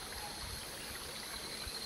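A clear river stream flowing beside the Gunung Ciung trail, a steady close rushing and trickling of water with no voices.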